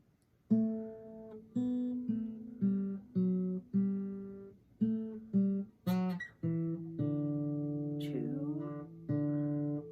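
A plucked guitar plays four bars of the Minuet in G, a short, steady melody in triple time, with separate notes up front and a few longer held pedal notes near the end. No talking.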